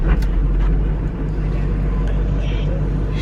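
A 2005 LLY Duramax 3500 diesel pickup engine starting and settling into a loud, rough low idle, steady deep rumble throughout with a few faint clicks and knocks on top.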